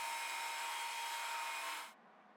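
An angle grinder cuts a scallop into steel engine mount tabs with a steady high whine for about two seconds, then winds down abruptly.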